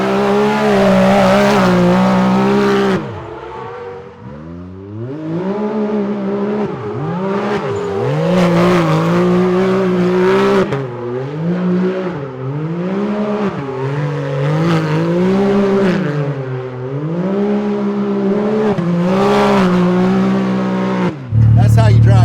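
A car is driven hard around a backyard gymkhana course. The engine revs loudly and continuously, rising and falling in repeated surges as it accelerates and lifts, and voices talk over it.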